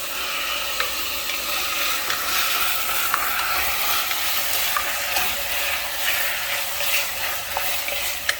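Vegetables sizzle steadily in Szechuan sauce with tomato ketchup in a pan, a constant hiss with occasional stirring clicks and scrapes.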